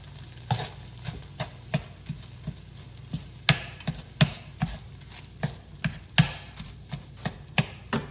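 Onions cook in a frying pan over a soft sizzle, stirred with a utensil that taps and scrapes the pan in a steady rhythm, sometimes landing a sharper knock.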